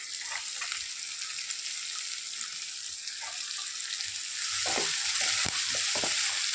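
Cabbage sautéing in a pan makes a continuous hiss of frying, joined toward the end by a cluster of sharp scraping and tapping stir sounds. Nobody speaks.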